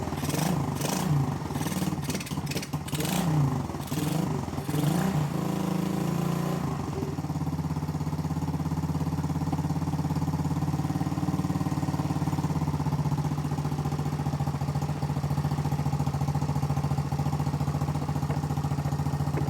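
A Chinese 125cc dirt bike engine that had trouble running, heard revving unevenly for several seconds, then settling into a steady, continuous idle that runs on alone.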